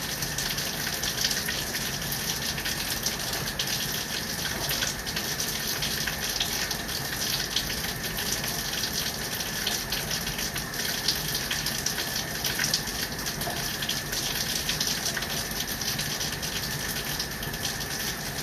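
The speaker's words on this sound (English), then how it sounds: "I'm gonna run the water through there." Water rushing steadily through a 2 or 3-inch drain line after descaling, a continuous, even gushing hiss that holds unchanged throughout with no talking.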